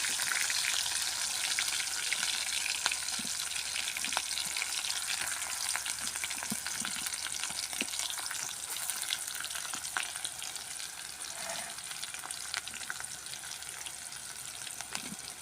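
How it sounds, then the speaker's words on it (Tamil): Green chilli and curry leaves frying in hot oil, a steady close crackling sizzle with faint spattering pops throughout, no talk. "நல்லா பொரியட்டும்"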